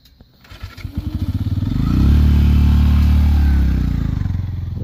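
A motorcycle engine putters at idle, then the throttle is opened and it swells into a loud, close, steady roar before easing off slightly, with no voices.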